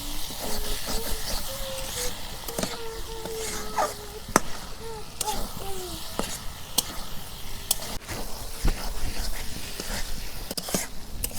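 Beef tripe fries in a pan for a village-style Bangla dish, giving a constant loud sizzling hiss with occasional sharp pops and crackles throughout.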